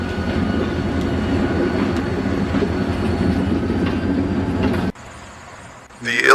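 A diesel locomotive, PREX 2032, pulling an Indiana and Ohio Railway SW1500 switcher up the Kellar Branch, drones steadily with rail clatter, loud and close, before cutting off abruptly, with a voice briefly audible near the end.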